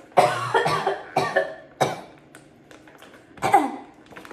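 A person coughs repeatedly after inhaling ground coffee beans while making coffee at home, a cluster of harsh close coughs followed by a pause and one more forceful cough.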